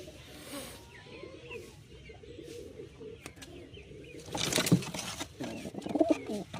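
Pigeons coo softly and repeatedly close by, low throaty calls over quiet background rustling, with a brief flutter of noise near the end.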